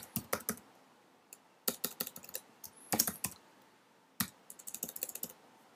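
Quick bursts of typing on a computer keyboard, close and crisp key clicks in short irregular clusters separated by brief pauses, alone without talk.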